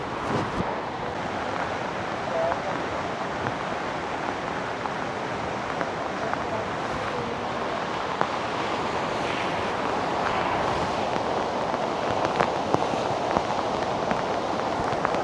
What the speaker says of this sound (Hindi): इसका पानी भी आ रहा है, बारिश भी आ रहा है, दोनों साथ में मिक्स हो रहे हैं।